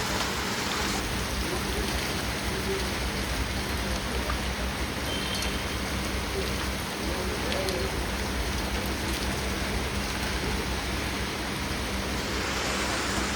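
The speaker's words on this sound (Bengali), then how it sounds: "একটু বৃষ্টি হচ্ছে" Rain falls outdoors, heard from a balcony as a steady, loud, even wash of noise with no pauses and no talking.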